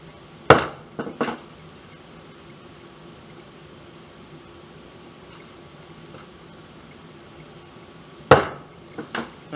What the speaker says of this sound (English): hold your chisel straight up and down so that your line stays straight on both sides